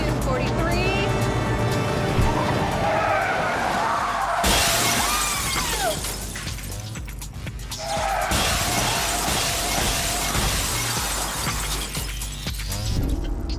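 A truck driven at full speed crashes into a sheet of glass, giving a loud, sustained shattering and crunching with vehicle rumble, a second burst of breaking debris following partway through.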